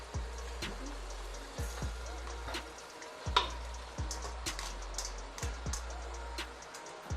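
Pasta tipped into a pan of simmering sauce gives a low sizzle and wet bubbling, with several soft clinks and scrapes of a spoon against the pan, close and moderately loud.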